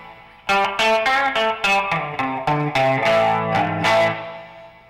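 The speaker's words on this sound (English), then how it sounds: "You can hear that kind of twangy, aggressive, almost overdriven sound, and that's what that double coil gives you." Electric guitar played through the rear double-coil pickup with the other pickups off, a twangy, aggressive, almost overdriven tone strummed as a quick run of chords and picked notes, close and loud, no voice.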